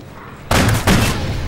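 Gunshots in Call of Duty Ghosts, heard as two loud, sharp blasts in quick succession after a quiet start, each one followed by a short ringing tail.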